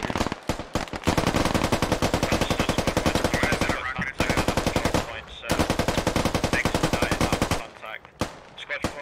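Machine gun fire in the military shooter Squad, loud, close sustained automatic bursts of rapid rhythmic shots, three long strings separated by brief pauses.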